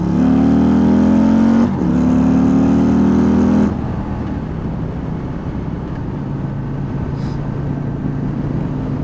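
A 2024 Harley-Davidson Street Glide V-twin pulls hard under acceleration with a loud, rising engine note, then a quick shift and more climbing revs before it settles into a steadier cruising rumble.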